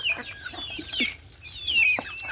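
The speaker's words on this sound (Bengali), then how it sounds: "আমার বোনের কিছু হাঁস মুরগি দেখেন সকালবেলা ছাড়া হয়েছে, খাবার দেওয়া হয়েছে" Several chickens and ducks cluck and chatter nearby in short bursts during morning feeding in a village, with higher squawks rising over a quiet background.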